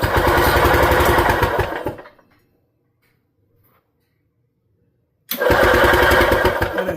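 A Par Car golf cart engine cranks and runs with a loud, rhythmic chugging, cuts out into near silence for a few seconds, then fires up and chugs again.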